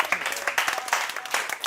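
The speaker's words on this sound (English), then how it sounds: "Let's clap for our technology." A school excursion audience claps in a brief, uneven burst of applause with many hands at once, fairly close and lively.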